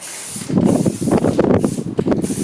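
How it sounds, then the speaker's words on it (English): A close aerosol spray paint can hisses almost continuously with slight pulses, loud and airy, applying one coat. "So for now, I'm just going to spray these, just give them one coat for now."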